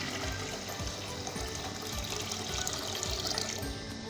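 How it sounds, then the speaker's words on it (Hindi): About four glasses of water pour steadily into a pan for sugar syrup, a continuous, even rushing splash held close throughout with no pauses. "शीरा बनाने के लिए एक पैन में तकरीबन 4 गिलास पानी लेंगे।"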